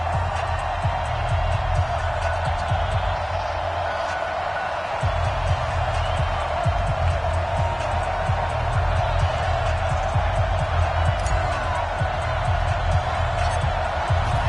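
Steady roar of a stadium crowd in an NFL video game matchup between the Carolina Panthers and Denver Broncos, a constant dense wash of cheering with low rumbling thumps underneath throughout.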